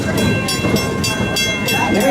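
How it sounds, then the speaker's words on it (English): Busch Gardens Serengeti Express green train rolling along the track below, a loud steady rumble with rhythmic clickety-clack of wheels, heard close from an open train car. "our green train is currently passing us on the track below"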